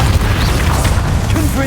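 Bombarda spell blasts in Hogwarts Legacy produce a dense, loud, low booming rumble that fills the whole short moment, with a voice speaking over the game sound.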